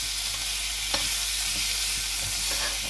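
Green chilies frying in a pan, a steady close sizzle with occasional stirring scrapes and faint clicks, no talking.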